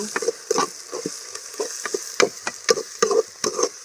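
Garlic and spices frying in a pan, with crisp bursts of sizzle and scraping stirring strokes in an uneven rhythm, close and fairly loud.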